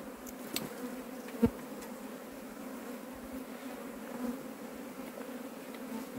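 Honey bees buzz during a hive rescue from a wooden stump, a faint steady drone with a few brief louder ticks and knocks nearby.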